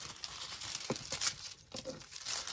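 Scissors cutting a sheet of crinkly decorative foil for a craft project on a Dollar Tree glass plate, giving close, soft crackling and crinkling with a few sharper snips over about two seconds.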